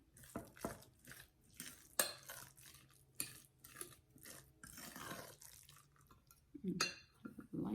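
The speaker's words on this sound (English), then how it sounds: "I'm going to stir that around in there." A spoon stirs chickpea salad in a bowl, giving a series of irregular light clinks and scrapes against the dish, close and fairly quiet, with short pauses between strokes.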